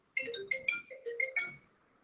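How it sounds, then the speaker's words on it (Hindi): A phone rings with an incoming call, playing a bright electronic melody of short, clear notes in a quick rising and falling pattern, heard close and alone before a new phrase starts at the end. "लड्डू का फोन आ गया, देखो।"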